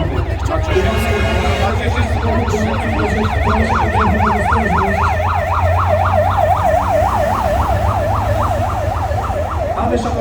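A fire engine siren wails, sweeping up and down continuously over a loud engine rumble, close and steady throughout.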